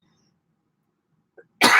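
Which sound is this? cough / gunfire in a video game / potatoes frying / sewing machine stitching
cough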